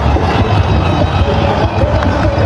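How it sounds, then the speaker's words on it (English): A stadium crowd roars after a boundary at a Pakistan vs Sri Lanka T20 cricket match, a loud, dense wash of cheering that holds steady for the whole moment. "The roar in the crowd tell you all about that one."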